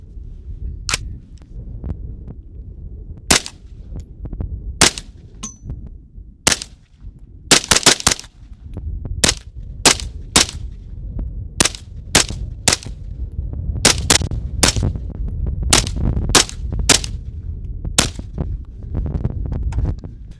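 Around twenty suppressed rifle shots with PMC green tip rounds through a Dead Air Sandman K, fired outdoors on a freezing range as loud sharp cracks at an uneven rhythm, some in quick pairs, with no talking.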